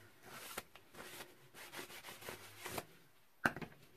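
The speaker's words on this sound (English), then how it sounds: "you can sand lightly between coats" Light sanding over a dried coat of homemade gesso, a soft scratchy rubbing in irregular strokes with brief pauses and one sharper scrape near the end, close and fairly quiet.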